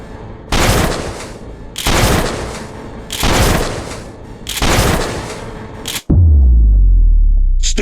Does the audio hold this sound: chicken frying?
no